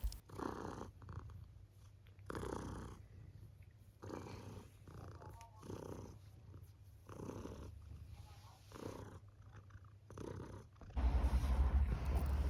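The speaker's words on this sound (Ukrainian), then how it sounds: "а це ще вам в кадр трохи милоти такої муркотливої" Cat purring close to the microphone in rhythmic cycles, about eight or nine breaths of rumbling purr with soft pauses between, ending in a louder muffled rustle, with no talking.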